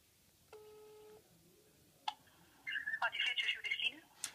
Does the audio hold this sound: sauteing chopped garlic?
no